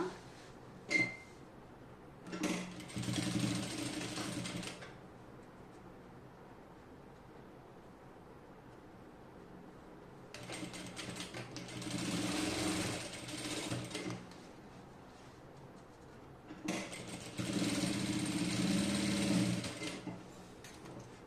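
A sewing machine stitches the shoulder seam of a kurti in three separate bursts of fast, whirring mechanical clatter, each a few seconds long, with quiet stretches in between and no voices.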